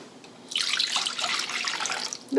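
Plain room-temperature water, 12 ounces, is poured for an Italian water cake batter, making a close, steady splashing rush that lasts about two seconds.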